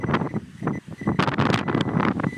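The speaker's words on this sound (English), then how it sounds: "Oh, the wind's back. It had died down a bit." Wind blows across an open field and buffets the microphone in irregular gusts, with low rumbling surges and hissy bursts that rise and fall over a couple of seconds.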